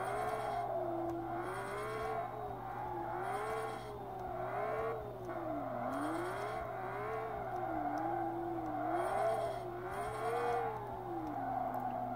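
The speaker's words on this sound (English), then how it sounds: "a Manji is when you go side to side to side to side like this" Virtual car engine in the Drift Hunters video game, revving steadily and rising and falling in pitch as the car drifts side to side in a Manji, with a continuous loud whine and no talk.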